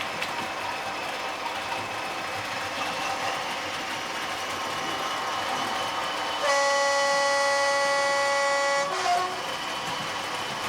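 A digital model locomotive of a Class 40 or Class 37 diesel starting up, with a steady mechanical hum and then a loud, sustained horn tone that lasts a couple of seconds before cutting off.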